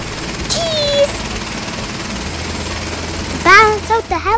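A helicopter flying over Niagara Falls makes a steady, loud broadband drone heard from inside the cabin, while several voices, including a child's, talk briefly over it.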